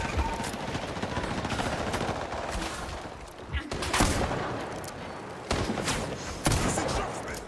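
Dense, sustained gunfire from a video game, with rapid bursts and several sharp louder shots standing out over continuous battle noise; a voice is heard briefly amid the shooting.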